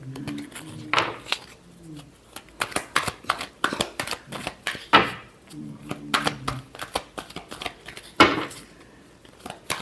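Tarot cards being shuffled by hand during a Gemini weekly horoscope reading, giving clusters of soft, riffling card flicks and taps that come in irregular bursts. A person speaks intermittently over the shuffling.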